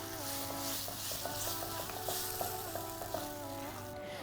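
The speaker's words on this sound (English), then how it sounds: "And lastly, we're going to add the chopped red chili paste. And just, really give it a good mix." Chopped red chili paste is stirred into a hot pan for Thai spicy shrimp noodles, giving a steady sizzle with soft scraping strokes and faint tonal hum close by, with no talking.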